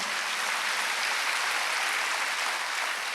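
A congregation claps during a Wednesday church service, a soft, even wash of many hands heard from some distance, steady and brief with no talking.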